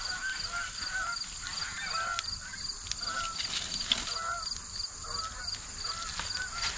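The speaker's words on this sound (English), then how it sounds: "Got some neighborhood geese kind of honking at us tonight." Neighborhood geese honk repeatedly at night, their scattered calls steady and moderately distant over a constant outdoor hiss, with no talking.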